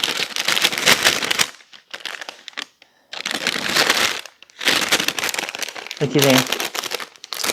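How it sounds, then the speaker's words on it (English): Plastic cookie gift bags crinkle and rustle loudly up close in several bursts with short pauses, and someone speaks briefly between them. "I have these sweet little cookie bags. And open them up."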